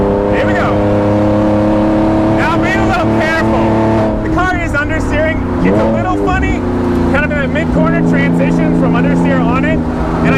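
Straight-piped Lykan Hypersport build driven on a race track, a loud raw exhaust revving up and down repeatedly with crackling pops on lift-off, someone talking over it throughout.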